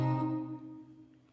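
A single sustained musical loop element with a minor tenth added above the bass, sounding as one soft, warm chord struck and slowly decaying over about a second.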